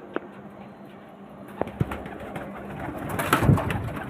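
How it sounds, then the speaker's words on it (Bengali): Pigeons coo in short repeated phrases, with a louder burst of cooing and a few wing flaps near the end, set against steady background noise with no talking. "খুব সুন্দর পায়রা।"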